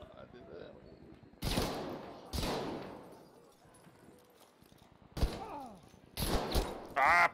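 Several sharp video-game gunshots ring out in separate bursts, loud cracks standing above a quiet background with someone talking between them.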